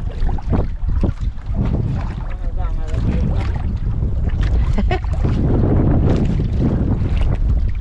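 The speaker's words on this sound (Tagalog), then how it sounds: "Malakas ang hangin." Strong wind buffets the microphone in loud, roaring gusts on a boat at sea, with water and boat noise underneath and voices talking briefly through it.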